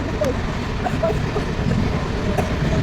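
Steady rumble of a passenger train in motion, heard from close by inside a coach, with faint rhythmic clatter of wheels and a few brief squeaks throughout.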